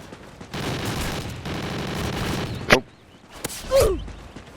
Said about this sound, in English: They shot you in the head with a shotgun, mate.